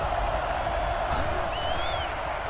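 Stadium crowd roar in an NCAA Football 10 game against Oklahoma, a loud, dense, continuous wash of crowd noise with a brief whistle-like tone partway through, no clear talk.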